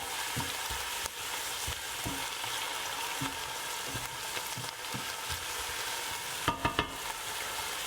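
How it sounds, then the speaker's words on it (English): Green chilies and cloves frying in a pan, a steady close sizzle broken by regular soft knocks of stirring and a quick cluster of scrapes near the end. "a couple of green chilies, what else? Some cloves. And we're going to give it a good stir and let it kind of brown up a bit."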